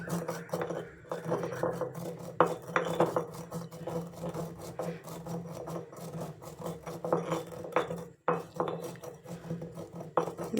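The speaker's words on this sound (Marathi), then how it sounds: "जिरे जिरे बारीक करून घ्यायचे" Cumin seeds are crushed in a stone mortar with a pestle, giving close, steady gritty grinding and scraping strokes in an uneven rhythm, with no talking.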